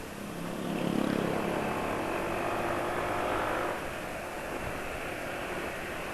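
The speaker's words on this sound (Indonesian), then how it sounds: "suara mesin PCX yang depan ini lebih terdengar daripada motor penulis" Honda PCX scooter engine riding just ahead on a road, a steady broadband motor and wind rush that swells slightly then holds even throughout, with no talking.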